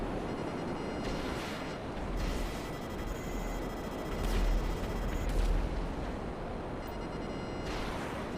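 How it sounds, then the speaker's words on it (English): Distant gunfire and artillery in the video game GTA: a continuous rumbling wash with repeated dull booms and bursts rolling in at irregular intervals, far off and muffled. "The distant gunfire must have been horrifying for the local civilians"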